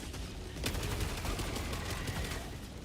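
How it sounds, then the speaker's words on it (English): Gatling barrage in Helldivers 2 pounding down, a dense, continuous roar of rapid gunfire and impacts filling the whole stretch at steady loudness. "Gatling barrage, go!"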